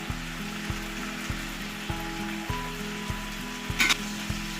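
Spice paste for a rohu fish curry fries steadily in hot oil, a close, continuous sizzle broken by regular knocks of a stirring spoon about every half second, with no voices.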